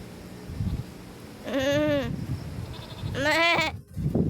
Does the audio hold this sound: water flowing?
no